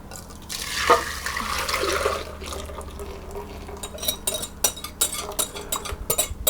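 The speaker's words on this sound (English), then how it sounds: "And then you pour that back into the pan." Brownie pie mixture pours into a pan with a soft splashing rush, then comes a series of light metallic clinks and scrapes against the pan.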